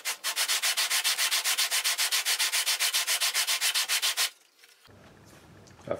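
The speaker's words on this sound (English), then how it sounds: "when I move the sides back and forth, I will be sanding in that curve" Wooden dreadnought guitar sides are rubbed back and forth on sandpaper to sand in a curve. Around two dozen steady, evenly spaced rasping strokes come close and loud, then stop abruptly, leaving faint room noise.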